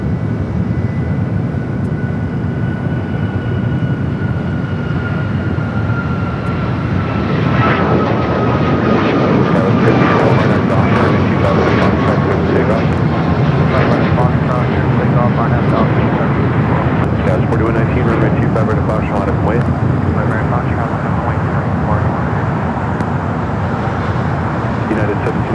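A jet aircraft roars at Los Angeles LAX airport, loud and sustained, swelling as it passes, while radio chatter from the tower runs over it and road traffic rumbles beneath.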